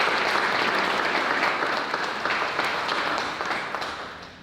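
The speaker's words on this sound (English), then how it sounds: "Give yourselves a round of applause." An audience at a military promotion ceremony breaks into a short burst of dense applause that fades slightly toward the end.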